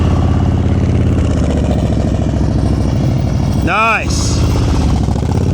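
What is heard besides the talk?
motorcycle engine during slow speed riding practice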